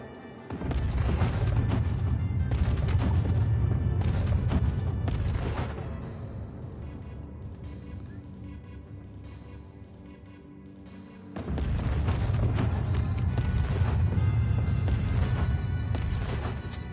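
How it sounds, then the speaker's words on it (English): A bomb blasting a rock in Dreams sends out heavy, booming rumbles that hold loud for several seconds, fade into a quieter rumbling stretch, then swell again into another long, forceful roar. "Destroy the rock with a bomb."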